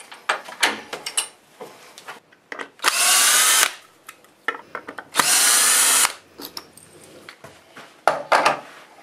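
A power tool whines in two loud, sustained bursts of a few seconds each, with scraping, knocking and handling noises between them, during work on a green-wood bowl tenon on a wood lathe.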